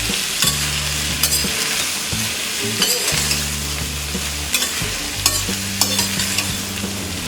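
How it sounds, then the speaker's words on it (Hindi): Chickpeas sizzle steadily in a hot pan with grated coconut, a spoon scraping and stirring in regular strokes with occasional clinks, no voices. "और इसे हम 2 मिनट तक फ्राई करेंगे। में डालेंगे ये ग्रेटेड कोकोनट, मिक्स कर देते हैं।"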